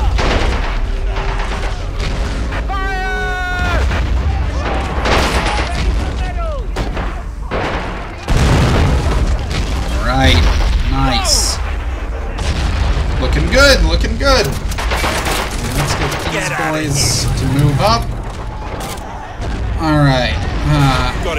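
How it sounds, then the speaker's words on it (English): An anti-tank gun fires in Men of War: Assault Squad 2 amid other battle noise, with sharp booms and gunfire under near-constant talking. "looks like someone's trying to fire at us. It's over here. There's an AT gun."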